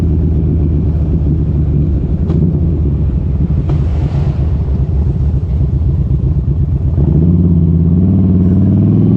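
A motorcycle cruises along with a steady loud engine drone, heavy wind buffeting the microphone throughout and the engine note rising near the end as it accelerates.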